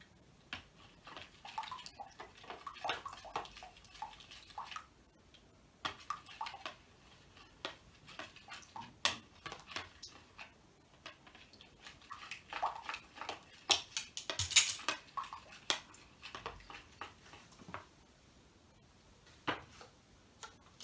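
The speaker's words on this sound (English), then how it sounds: "as I add it I'm going to stir it very well" Slime made with contact lens solution is stirred in a bowl, giving a run of soft wet clicks and squelchy ticks at an uneven pace, close and fairly quiet.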